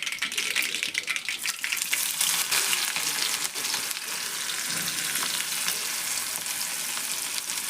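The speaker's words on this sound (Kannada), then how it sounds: "ಎಣ್ಣೆ ಹಾಕ್ಯಾನ ನೋಡ್ರಿ. ಸಾಸಿವೆ ಹಾಕ್ಕೊಂಡು ನೋಡ್ರಿ. ಈಗ ಹೆಚ್ಚಿಟ್ಕೊಂಡೇನಂತ ಉಳ್ಳಾಗಡ್ಡಿಯನ್ನು ಹಾಕ್ತೇನೆ." Chopped onions fry in oil with mustard seeds, a bright steady sizzle with crackling pops and rattling stirs, loudest early and then settling into an even hiss.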